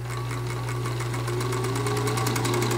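Singer Featherweight 221 sewing machine running at top speed after a foot-controller adjustment, giving a steady motor whir with a fast, even mechanical chatter throughout.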